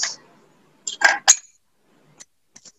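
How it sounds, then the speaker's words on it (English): Vinegar poured into a glass of water during a children's workshop demonstration: a few short glassy clinks and splashy bursts near the middle, then faint small taps, with no talking. "I'll add vinegar to this."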